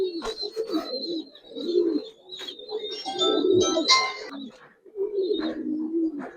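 Giribaz and coloring pigeons coo in a close, steady run of low, rolling calls, with a few brief higher chirps mixed in and no talking.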